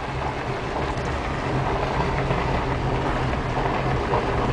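A manual car cruising in second gear on an interstate, a steady loud engine drone and road rumble that stays even and continuous from start to finish.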